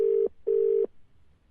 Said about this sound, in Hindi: दोबारा रिंग जा रही है, देखते हैं।